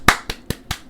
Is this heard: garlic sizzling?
no